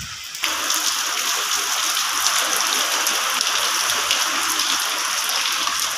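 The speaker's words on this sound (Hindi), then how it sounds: "बहुत तेज़ बारिश हो रही है" Heavy rain pouring down in a dense, continuous hiss, loud and steady from start to finish with no voices.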